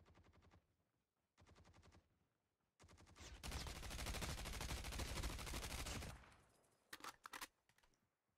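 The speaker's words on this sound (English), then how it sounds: "There's a gunshot from here." Rapid gunfire in the mobile shooter Call of Duty Mobile, a few short bursts of shots leading into a loud sustained volley of automatic fire, then scattered single shots trailing off.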